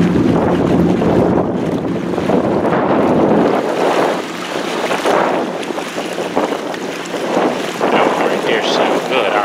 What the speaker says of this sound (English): Badass boats over here.